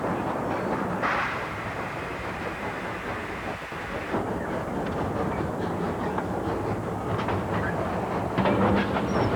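Steam locomotive climbing a steep grade on rails, a steady loud rumbling roar with faint clickety-clack, continuous throughout and close by, with no voices.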